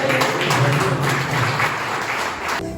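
A church congregation applauds in a dense, loud, continuous wash of clapping that fills the room, then cuts off abruptly near the end.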